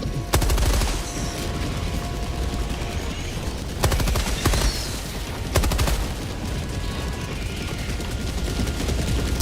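Gatling sentry gun in Helldivers 2 rattling out rapid continuous bursts amid heavy explosions and booms, loud and dense throughout with sharp blasts punctuating the stream of fire.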